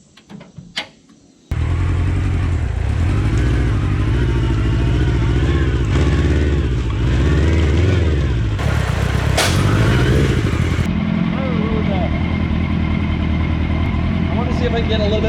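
A mini trophy truck project engine runs hard throughout a four-wheel-drive test, starting abruptly after a brief quiet moment and then staying loud and steady, with revving swells and clattering mechanical noise.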